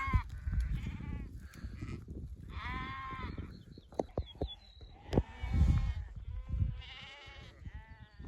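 Sheep and lambs bleat on a cool mountainside in the Nurhak range, with several distinct calls from different animals over a few seconds and soft rustling between them.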